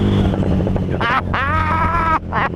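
Harley-Davidson Street Rod 750 motorcycle accelerating after a gear change on narrow Cornish back roads: a close, steady engine drone with several short bursts of brighter, higher-pitched noise rising over it.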